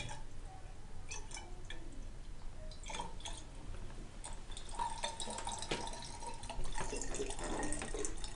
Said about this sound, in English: I'm going to then fill this up to the line with additional water